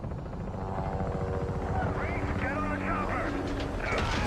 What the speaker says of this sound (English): Get to the chopper.